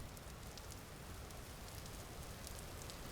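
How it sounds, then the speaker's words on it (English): Steady rain in a Vintage Story survival game world, a dense, even hiss with scattered drop ticks holding at a constant moderate level with no voices. "it's raining again"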